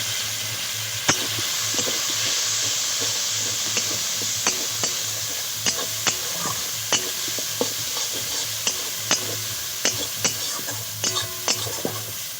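Water and chopped tomato hit frying spices in a pan, raising a loud, steady sizzle, while a spoon stirs with a series of regular sharp scraping clicks against the pan, close up and without talk.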